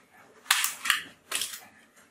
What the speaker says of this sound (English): This gun is sound checking.